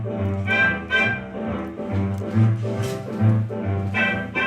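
Vintage western swing tune plays steadily with a bouncy rhythm, a band and a singing voice carrying through at moderate, consistent loudness.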